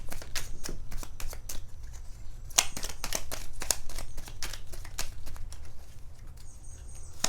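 Tarot cards shuffled over and over in a riffling, papery rhythm of quick crisp bursts, close and steady, with a low constant hum underneath and no voices.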